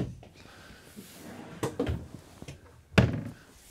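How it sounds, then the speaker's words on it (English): An oversized storage drawer pulled out from beneath the couch in a 2024 Winnebago Micro Minnie 2108DS travel trailer, giving a few soft sliding knocks and then one sharper thunk near the end, close by with no talk. "beneath the couch, you've got these oversized storage drawers to pull out"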